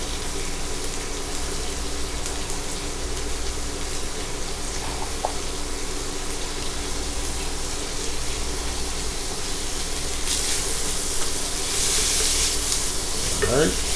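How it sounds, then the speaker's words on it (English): Chopped onions and diced peppers sizzling in a frying pan, a steady close frying hiss that runs throughout and grows slightly louder near the end. "you want to have some chopped onion and add that"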